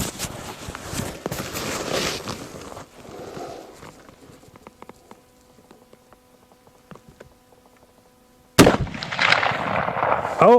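A single loud, sharp rifle shot from a Winchester rifle, fired at a jug set out at about 175 yards. The shot cracks near and alone after a quiet stretch, with earlier outdoor noise and rustling.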